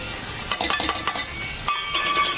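Onion and tomato frying in a pan as spices go in, a soft sizzle with irregular clinks and scrapes of a utensil against the pan, no talking.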